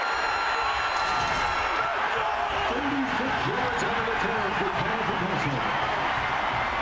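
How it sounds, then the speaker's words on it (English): A college football stadium crowd roars loudly and continuously after an interception during an Oklahoma State at Oklahoma game, with a commentator talking over the din. "and this crowd roaring now"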